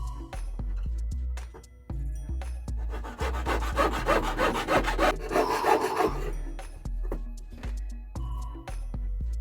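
A jeweler's saw rasps through metal for a bracelet in quick back-and-forth strokes, rising to a dense scraping burst in the middle before slowing again, close up and alone.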